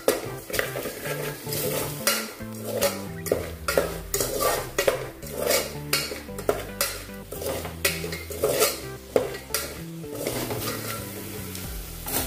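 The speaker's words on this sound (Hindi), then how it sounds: "अच्छे से सभी मसाले को हम मिक्स करेंगे।" Spices for a soybean biryani are stirred in a pot, with rhythmic, repeated clinks and scrapes of a metal spoon over a soft sizzle, close and steady throughout.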